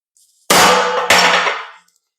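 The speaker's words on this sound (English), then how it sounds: "And then with a centre punch, right on the corner, I'm going to put" Two sharp, loud metallic clangs close together as a hammer strikes a centre punch on steel while forging flat bit blacksmith tongs, each ringing briefly before fading.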